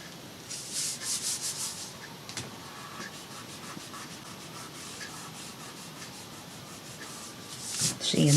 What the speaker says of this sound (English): Sometimes if you just rub it, it'll ball up into little balls and it'll come right off.